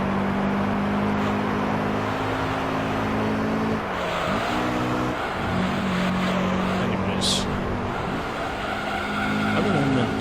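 A Honda NSX Type R engine drones steadily in Gran Turismo 3, holding a loud, sustained racing note with brief dips as it shifts, while someone talks over it.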